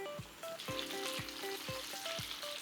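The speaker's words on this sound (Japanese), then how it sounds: "揚げ物っていいじゃないですか、この音が。" Food deep-frying in hot oil crackles and sizzles continuously, close and clear, with a few faint tonal beeps and soft rhythmic thumps in the background and no talking.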